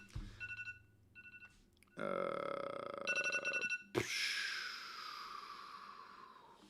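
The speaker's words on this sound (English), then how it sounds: "You guys can probably hear my phone beeping constantly." A phone emits a series of electronic beeps and tones, short repeated pulses followed by longer sustained ringing, then a burst of noise.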